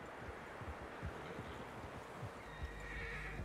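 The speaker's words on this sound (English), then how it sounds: "Horses, quite a few of them." Several horses in Red Dead Redemption 2 neigh and whinny over steady hoof clip-clops, with a constant wind-like outdoor bed and no talking.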